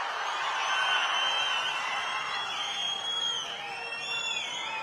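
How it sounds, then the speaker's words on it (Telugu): A large outdoor crowd at a political rally in Mukkavaripalli, Tirupati district, claps and cheers steadily for about five seconds, a dense, sustained roar of applause with no clear voices on top. "నెరవేర్చామంటే గట్టిగా చప్పట్లు కొట్టి చెప్పండి అవునని"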